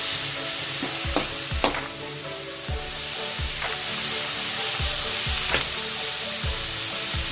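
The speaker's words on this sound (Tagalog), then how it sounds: "Saute your pork." Pork sizzles and fries in a pan for Bicol Express with a steady hiss, and a spoon stirs it with repeated scraping clinks, close up, with no talking.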